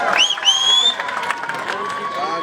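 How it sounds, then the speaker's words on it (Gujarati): A crowd at a farmers' protest rally in Raval village cheers and applauds, with shrill whistles rising over a steady, loud wash of clapping and crowd noise. "એમના માટે જબરદસ્ત તાળીઓનો આવકાર થઈ જાય"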